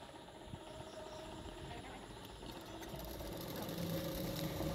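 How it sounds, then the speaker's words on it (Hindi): A sewing machine stitches along the edge of a blouse belt for a double katori blouse, its steady mechanical whir running continuously and fairly close throughout. "मतलब उल्टा करते हुए मैं सिलाई कर रही हूँ अभी"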